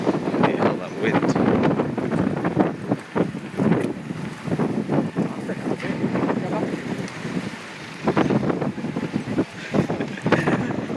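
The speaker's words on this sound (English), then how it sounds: "Feel all that wind." Strong wind buffets the microphone on a Tokyo street in gusty, rumbling bursts, with a voice talking over it.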